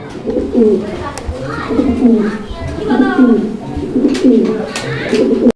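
A pair of exhibition pigeons coo in repeated low, throaty bursts, close and fairly loud, the rolling calls following one another steadily with little pause.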